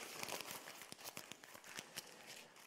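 A sheet of paper is crumpled by hand, producing a close, dense series of crackling crinkles and sharp snaps over a few seconds, with nobody talking.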